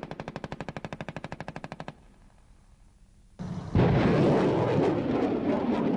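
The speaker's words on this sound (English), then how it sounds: "the firepower the Bradley carries, the machine guns, the 25 millimeter" A Bradley fighting vehicle's machine gun rattles off a fast, even burst of around twenty rounds, then after a pause its 25 mm cannon booms loud and sustained, rolling into heavy continuous gunfire.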